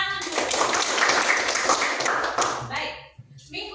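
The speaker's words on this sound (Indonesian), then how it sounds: "Oke, kita tepuk tangan dulu." A classroom of students claps hands together, a dense burst of brisk applause that fades near the end, with voices audible alongside.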